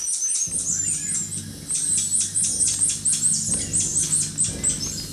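Rapid series of high, sharp chirping alarm calls from a marmoset, repeated in quick bursts over a steady low hum.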